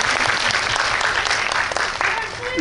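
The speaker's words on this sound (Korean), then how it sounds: "네, 박수 부탁드립니다." Applause from a cinema audience at a movie talk event with the director and cast, a dense, steady clapping that fills the room for a couple of seconds and tapers slightly at the end.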